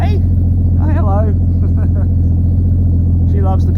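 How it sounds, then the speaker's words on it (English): The turbocharged Ford FG Falcon on E85 fuel runs at a loud, steady cold-start idle, a deep constant drone, while a person talks briefly over it. "E85 cold start"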